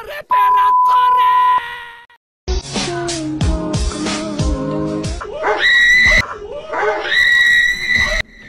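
A dog barks and yelps close by in a prank, loud and chaotic, mixed with a person screaming and shouting in panic after a brief opening sound and pause.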